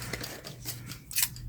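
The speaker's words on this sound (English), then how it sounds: "Now some of this I may have to use scissors" Scissors snip through thick, painted junk-journal paper and fabric in a quick run of short crisp cuts, close and fairly quiet.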